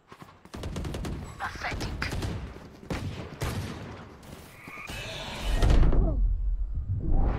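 Gunshots and combat noise in the tactical shooter Valorant on the Breeze map, a loud, busy mix of sharp shots and impacts with some thuds and a deep rumble near the end, no voices heard.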